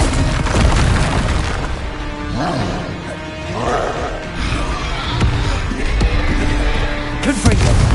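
An Incendio fire spell is cast in Hogwarts Legacy, a roaring, whooshing burst of flame within busy game combat noise, loud and continuous with low booms and brief tonal swoops.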